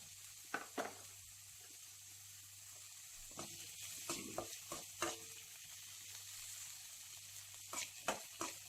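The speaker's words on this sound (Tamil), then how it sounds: "வெங்காயத்தை நல்லா வதக்கிக்கோங்க." Chopped onions sautéing in a pan for a tapioca fry, a faint, low hiss punctuated by scattered scraping and clinking of a spoon against the pan, close but quiet, with no voices.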